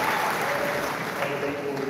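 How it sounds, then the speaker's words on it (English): Catholic wedding Mass congregation in Uganda applauds the diocesan association choir, a steady wash of clapping filling the church while a voice and faint tones carry over it. "Let us clap for them."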